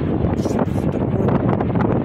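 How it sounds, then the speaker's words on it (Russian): Outdoor wind gusts against the microphone, producing a loud, continuous low roar and buffeting rumble with no voices present. "Ветер дует."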